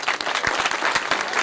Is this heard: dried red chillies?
no